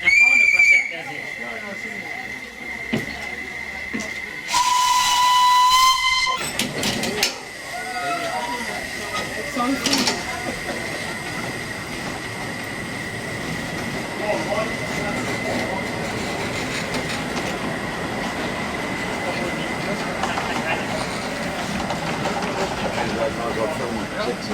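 Museum steam train at Bruchhausen-Vilsen departing, a sustained whistle tone at the start followed by steam hissing and rolling rail noise as it pulls away, with people talking nearby.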